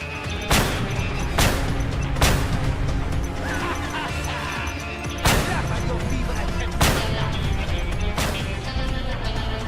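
Bomb explosions and gunfire in Just Cause 2, in a bomb battle against an enemy leader: a dense, continuous din of game combat punctuated by several heavy booming blasts at irregular intervals.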